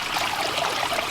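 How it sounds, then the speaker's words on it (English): Water spills from an Aquascape 12-inch spillway into a garden pond, a steady, close splashing rush with no talk. "Here's the main spillway where the water is spilling into"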